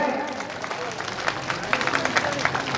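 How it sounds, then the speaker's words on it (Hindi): Audience applause at a Qureshi community talent award ceremony in 2023, a steady patter of many hands clapping at moderate distance, swelling slightly toward the end beneath an announcer's voice. "तालियां बजाने कम से कम तालियां बजाएं।"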